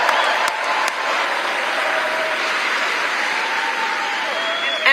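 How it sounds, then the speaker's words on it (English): A crowd applauds and claps in a steady, dense roar of overlapping hand claps, sustained and moderately loud, with no clear talking over it. "now you got your paid crowd out there clapping for you"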